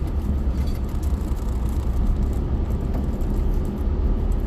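A car drives along a rural road, with a steady, close engine and tyre rumble that stays even throughout, with no talking.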